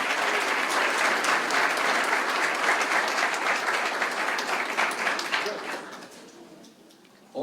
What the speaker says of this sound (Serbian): Hvala puno Dejane, molim vas jedan aplauz za sve ljudi.